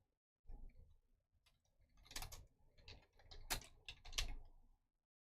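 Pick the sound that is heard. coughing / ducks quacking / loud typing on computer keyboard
loud typing on computer keyboard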